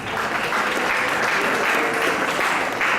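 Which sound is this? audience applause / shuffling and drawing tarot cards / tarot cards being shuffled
audience applause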